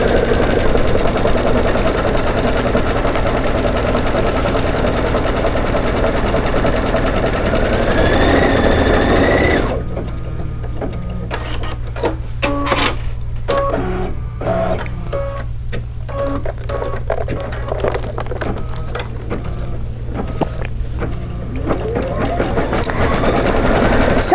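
A Kimberbell-project embroidery machine runs top stitching with a steady mechanical drone and rapid needle chatter, nearby and continuous; the first stretch sits under a louder, denser layer before settling into clearer rhythmic stitching.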